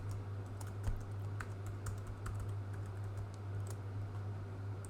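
Keystrokes on a computer keyboard while a password is entered, a steady series of light, irregular clicks over a constant low electrical hum.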